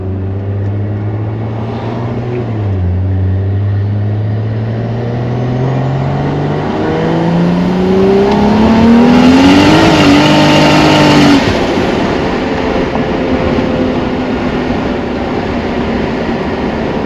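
A race car's engine revs and accelerates steadily during a test run on cold tires, its pitch climbing and shifting through gears, loud and close for the whole stretch with no talk.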